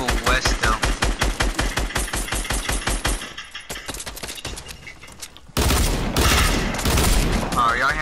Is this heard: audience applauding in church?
no